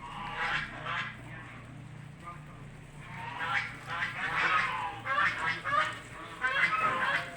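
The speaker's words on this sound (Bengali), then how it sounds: "লাইন ধরে হাঁসগুলো ঘুরে বেড়াচ্ছে পুরা খামারে।" Chinese geese on a farm honk in repeated loud bursts, several birds calling over one another in uneven clusters at moderate distance, with short pauses between volleys.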